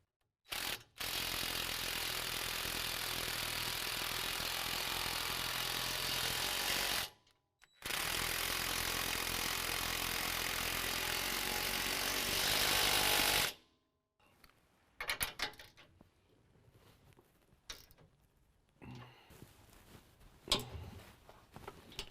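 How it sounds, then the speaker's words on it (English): A 5/8 socket wrench tightens the sway bar bolts on a 2017 Ford F-250 Super Duty in two long, loud stretches of rapid ratcheting clicks. Scattered quieter clanks and knocks follow. "Now we can tighten down our sway bar bolts with our 5/8 socket and wrench to 50 foot-pounds."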